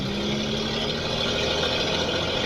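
A 1952 Ford F6 tanker truck's factory engine running, a steady, loud, close drone with a constant low rumble and no talk over it.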